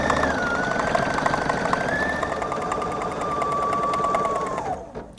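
A Husqvarna Viking embroidery machine stitches a felting design, a steady close mechanical whirr with a rapid needle rhythm running continuously for a few seconds before stopping abruptly near the end.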